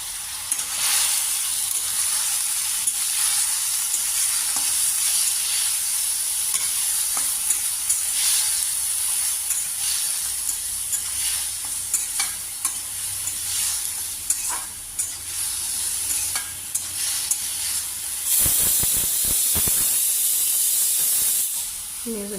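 Bitter gourd and potato frying in a pan, a steady close sizzle and hiss with scraping stirs throughout, swelling into a louder burst of steam near the end.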